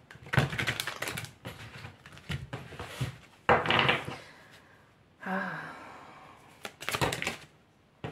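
Tarot cards shuffled and drawn by hand, giving a run of quick papery riffles and slaps in uneven bursts, close and fairly soft, with a couple of breathy gasps between them.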